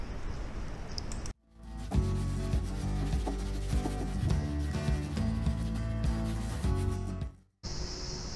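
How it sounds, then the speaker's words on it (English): Continuous rhythmic sanding of wood, a scratchy back-and-forth rasp close by, with brief quiet gaps at the start and end. "Then we got into sanding."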